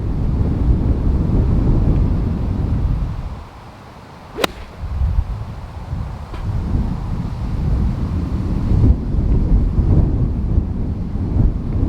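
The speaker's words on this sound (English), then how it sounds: "That wind is up now, isn't it?" Strong wind on a golf course buffeting the microphone in a loud low rumble that dips briefly midway, with a sharp swish of a club strike and no clear talk.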